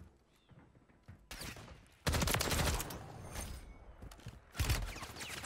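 Bursts of automatic gunfire aimed at the player in a video game, starting quiet then erupting into loud rapid volleys with brief lulls between them, close and intense.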